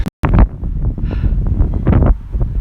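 Heavy wind at the Wave Dome in Wakkanai, Japan, buffets the microphone in loud, rumbling gusts, broken by a brief dropout near the start.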